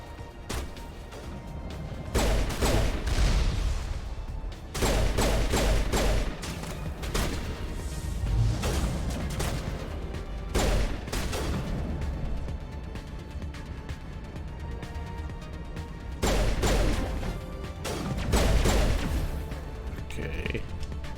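Bursts of gunfire in the Mass Effect Legendary Edition video game, loud clustered volleys that recur across the scene over steady game background noise.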